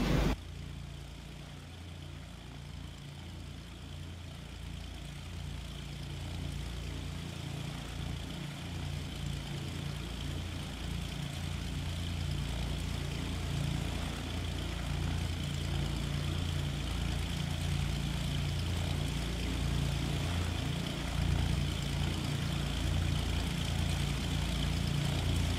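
Light aircraft engine taxiing in a flight simulator, a steady droning propeller hum that holds at an even level for nearly half a minute with no voices over it.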